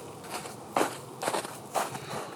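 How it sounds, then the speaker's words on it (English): Footsteps moving through trees outdoors, three crunchy, distinct steps with brief crackles between, fairly close and moderately loud with no voices. "it sounded like somebody was coming through the trees"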